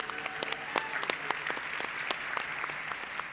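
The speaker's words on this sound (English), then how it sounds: "Give them a huge round of applause." Audience applause for a panel after a discussion on Indigenous representation, a steady wash of many hands clapping with scattered sharper individual claps standing out, moderately distant and without talk.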